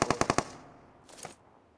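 Rapid burst of five automatic gunshots in PUBG Mobile, loud and close, followed by a quieter, more distant short volley after a pause.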